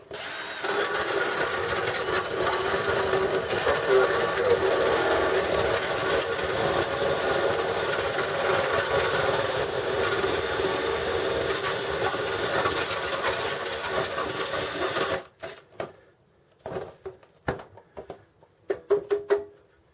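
A drill drives a grater through wax, shredding it into fine bits. It gives a loud, continuous whirring grind close by for about fifteen seconds, then stops, leaving a few scattered clicks and knocks.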